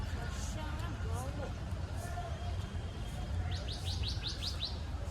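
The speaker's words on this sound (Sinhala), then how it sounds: "මාර ලස්සනයි කුරුල්ලන් කෑ ගහනවා" Birds chirp and tweet in a park on a cold morning in Nuwara Eliya, with a quick run of repeated high calls near the end, heard over steady outdoor background noise.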